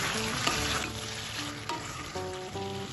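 Boiled Malabar spinach, cooked together with its liquid, sautés in a pan with spices and gives a continuous close sizzle. Scattered spatula scrapes and soft clinks break through the frying hiss.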